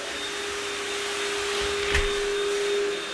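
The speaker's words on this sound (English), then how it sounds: "there is a lot of pet hair that she is vacuuming all the areas" A vacuum cleaner runs with a steady, loud, constant drone and high whine as it picks up pet hair from a tile floor, with no one speaking.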